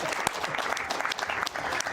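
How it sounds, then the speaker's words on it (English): Studio audience applause on a television show with a hypnotist, dense, continuous clapping over two seconds at a moderate level, with an occasional sharper clap standing out. "Give her a big applause."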